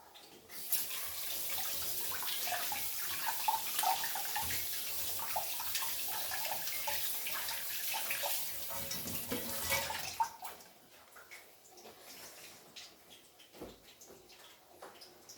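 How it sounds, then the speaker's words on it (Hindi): A tap runs steadily as hands are washed beneath it for about ten seconds, a close rushing splash that then stops, leaving faint room noise. "तो जी हाथ धो लेते हैं और पोंछ लेते हैं।"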